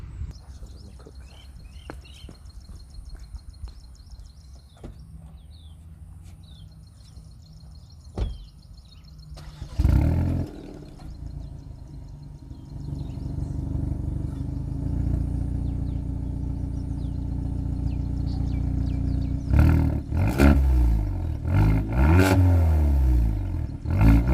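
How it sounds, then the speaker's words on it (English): A 2022 Hyundai i30 N facelift hot hatch idles with a low rumble, then exhaust revs rise and fall in several sharp bursts, growing louder toward the end. "let's take a listen at the exhaust"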